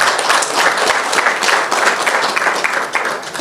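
At the official closing of an election seminar, an audience claps in a full, continuous round of applause with no speech over it.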